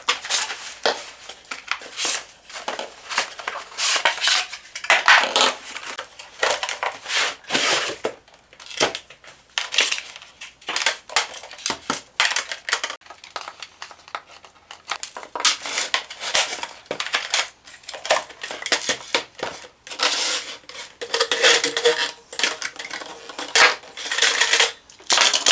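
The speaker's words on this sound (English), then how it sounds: "So let's open the box to find out more about this product" Cardboard and plastic packaging crinkle, crunch and rustle while a Parkside PWD 20 B2 wet and dry vacuum cleaner is unboxed, in irregular bursts with short pauses between them across the whole stretch.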